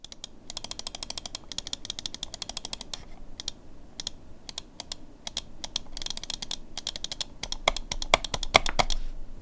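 Razer DeathAdder V3 Pro gaming mouse with optical switches clicking in rapid, crisp bursts, sharp clicks repeating close up in irregular runs with short pauses.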